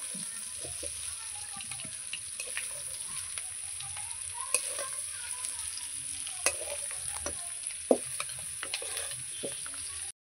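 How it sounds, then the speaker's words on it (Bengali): Potatoes frying in a pan during a chicken curry, a continuous sizzle with frequent stirring clatter and a faint trickle of water in the background, a voice barely present. "সব আলু আমার ভাজা হয়ে গেছে,"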